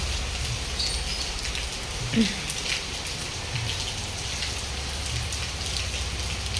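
Heavy rain pours down in a steady, dense hiss that fills the whole clip, with one brief louder knock partway through.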